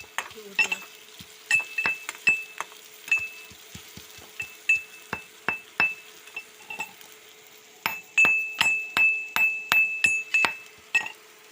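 A metal utensil scrapes and clinks against a pan in a steady run of strokes, stirring onions as they fry with a light sizzle beneath. Distinct taps come in two bursts, close by.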